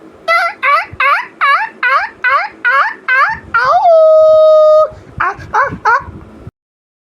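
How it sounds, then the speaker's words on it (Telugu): Recorded jackal and dog howls played back: a run of about nine short rising yelps, then one long sustained howl, then several more short yelps, loud and close, with no talking. "దెయ్యాల గొంతు వినిపిస్తామని చెప్పి నక్కలు కుక్కల గొంతు వినిపించేసాము"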